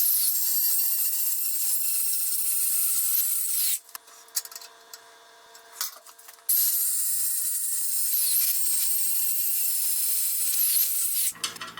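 Angle grinder grinding metal during a welding modification project, a loud high-pitched whine that runs steadily, drops to lighter scraping and clicks for a few seconds, then resumes at full intensity before cutting off.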